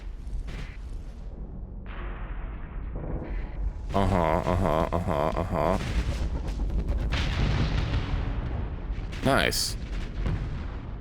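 Missiles launching at retreating fuel ships in a space video game, a dense run of booming blasts and rumbling impacts over several seconds, with a brief spoken remark.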